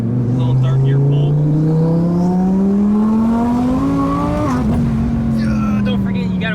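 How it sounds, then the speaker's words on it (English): A 1200 hp twin-turbo Audi R8 pulls hard in third gear, its engine note climbing steadily as it accelerates, loud and close from inside the car. There is a brief dip partway through before the rising pull resumes, and a voice is present. "5th gear, 4th gear, 3rd. Little 3rd gear pull."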